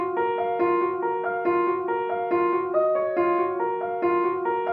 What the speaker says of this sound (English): We're going to be using the Studio Grand preset in Addictive Keys